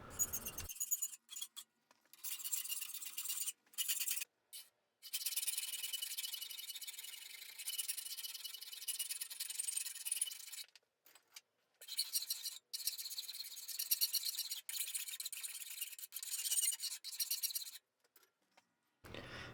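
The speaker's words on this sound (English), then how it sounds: "Here I'm using a half round needle file to start defining the shapes of the key." Half round needle file rasping on a metal key for a blacksmith-made box, quiet repeated scraping strokes in short bursts separated by brief pauses, close and faint.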